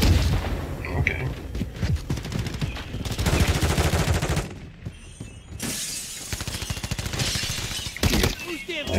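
Rapid gunfire during a Call of Duty team deathmatch: bursts of automatic fire and sharp shots, loud and close, broken by a brief lull, with a player's voice talking in between.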